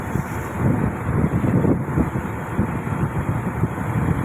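Steady wind rumble with choppy low splashing of waves slapping a boat hull at sea, continuous and fairly loud throughout.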